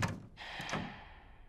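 A door opens in Resident Evil Village with a short wooden thunk and a brief creaking scrape, heard alone and fairly quiet.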